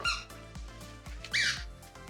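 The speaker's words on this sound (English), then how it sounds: "Oh good, you found a squeaky toy." A puppy plays with a squeaky toy indoors, giving a run of sharp, loud squeaks in quick bursts with soft thumps between them.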